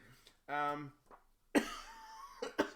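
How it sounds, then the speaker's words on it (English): A single sharp cough bursts out close by, mixed in with brief bits of speech and voiced throat noise. "I have a little bit of a cough there"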